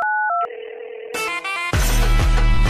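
A telephone keypad sounds a few steady dual-tone dialing beeps of changing pitch, then a brighter chime-like tone and a louder buzzing electronic tone follow in quick succession, loud and clear with no voices.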